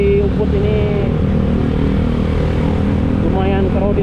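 Motorcycles and cars crawl through a traffic jam in Ubud, Bali, a dense, continuous engine drone with passing revs and a horn-like whine, while a person talks over it.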